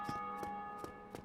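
A church bell rings at Firelink Shrine in Dark Souls Remastered: faint, sustained, ringing tones with soft, evenly spaced strikes about every third of a second, heard alone with no voices.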